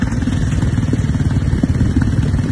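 A motorcycle engine runs steadily nearby with a low, rough, continuous rumble and some mechanical clatter, with no speech over it.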